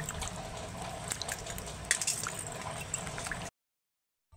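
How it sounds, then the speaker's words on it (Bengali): Papaya pieces are washed by hand in a bowl of water, with close, continuous sloshing and light splashes and drips for about three seconds before the sound stops abruptly. "এই যে এগুলো আমি ভালো করে সব জলের মধ্যে ধুয়ে নেবো।"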